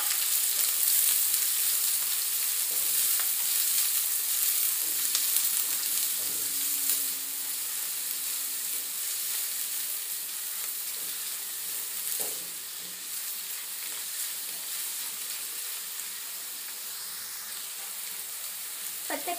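Steady, close sizzling and hissing of spring onions and garlic frying in a hot pan, with occasional stirring clatter, continuous throughout.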